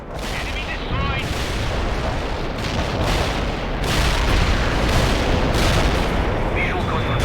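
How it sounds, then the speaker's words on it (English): Napalm strike explosions in the World in Conflict video game roar as a loud, continuous wall of rumbling blasts and crackling fire that swells steadily throughout. "Napalm strike was on the mark."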